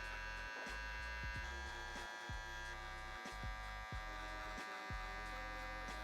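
Electric hair clippers buzz close up during a bald fade haircut, a steady drone that dips briefly at regular intervals as the blade meets the hair, with no talking.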